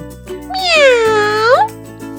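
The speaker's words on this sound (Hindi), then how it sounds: "बिल्ली" A cat meowing once, a loud, close, drawn-out rising and falling call lasting about a second, set over a quiet musical backing.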